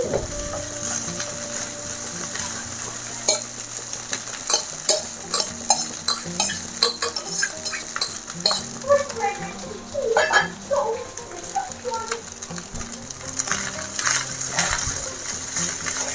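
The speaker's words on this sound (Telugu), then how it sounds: "ఇందులోకి ఇంకా అన్నం వేసేసుకొని చక్కగా అంతా కలిసేటట్టుగా కలుపుకోవాలి" Rice stirred into tamarind leaf pulihora in a pan, with repeated scraping, clinking spoon taps and soft sizzling throughout, close and moderately loud, no talk heard.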